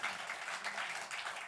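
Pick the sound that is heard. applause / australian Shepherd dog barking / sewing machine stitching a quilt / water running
applause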